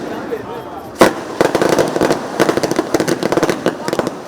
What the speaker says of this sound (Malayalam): അമിട്ടുകളിലും ഇരുവിഭാഗവും വ്യത്യസ്തത പരത്തി. തിരുവമ്പാടി വിഭാഗത്തിന്റെ സേ നോ ടു ഡ്രഗ് എന്ന സന്ദേശം വെടിക്കെട്ടിൽ താരമായി.